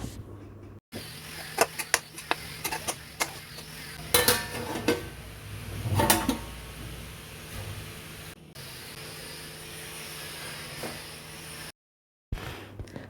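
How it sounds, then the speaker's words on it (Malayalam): Upma is stirred in a pan after the lid comes off, with a spoon scraping and clinking against metal in uneven bursts over a low background hiss, and a few louder knocks midway. Nobody speaks. "ഞാൻ മൂടിയൊക്കെ തുറന്ന് ഒന്നും കൂടി നന്നായിട്ട് മിക്സ് ചെയ്ത് കൊടുക്കുകയാണ്"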